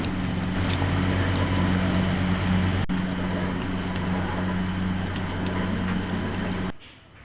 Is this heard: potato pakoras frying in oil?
yes